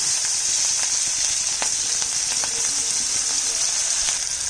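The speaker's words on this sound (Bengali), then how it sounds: "একটা শুকনো লঙ্কা চেরা, লম্বা লম্বা করে কাটা পেঁয়াজটা দিয়ে দিচ্ছি" Sliced onion and a split dried chili fry in hot oil, a loud, continuous close sizzle with faint crackles and pops throughout.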